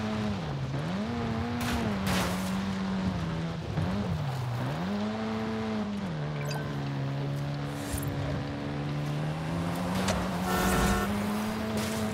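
Racing cars in Forza Horizon 5 roar steadily, with the engine pitch climbing and dropping through gear changes and a brief tyre squeal, loud and continuous with no talk.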